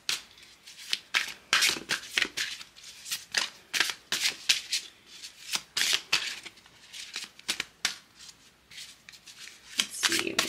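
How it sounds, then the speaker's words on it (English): Tarot cards being shuffled by hand, a close run of crisp riffling bursts and soft rubbing flutters repeating steadily, heard alone without talk. "Can we pull some more cards for Sagittarius?"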